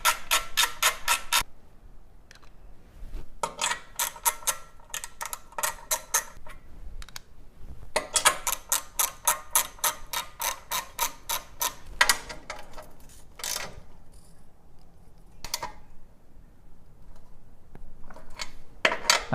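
Ratchet wrench tightening the skid plate bolts on a Triumph Tiger Rally Raid motorcycle: repeated bursts of rapid, sharp clicking, near and loud, separated by short pauses over about twenty seconds.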